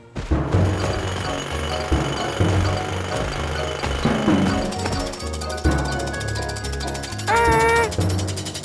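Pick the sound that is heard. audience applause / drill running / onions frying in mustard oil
drill running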